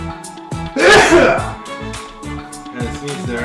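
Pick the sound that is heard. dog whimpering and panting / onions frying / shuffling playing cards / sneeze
sneeze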